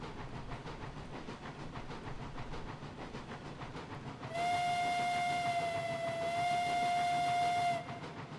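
A heavy train pulls away in the railroad game Railroads Online, with a steady rolling rumble throughout and a long, loud steam whistle sounding in the middle of the clip, close and alone with no talk.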